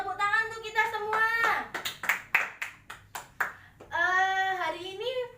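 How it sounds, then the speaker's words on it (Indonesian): A fourth-grade class claps a rhythmic pattern of about eight sharp, evenly spaced claps. Sung or chanted voices come just before and after the claps. "beri tepuk tangan untuk kita semua."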